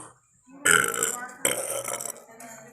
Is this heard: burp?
yes